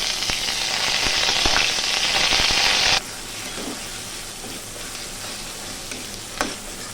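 Ginger paste frying in hot oil for a paneer and potato dish crackles loudly with sharp spattering pops, then the sizzle drops to a quieter, steady hiss with occasional stirring clicks.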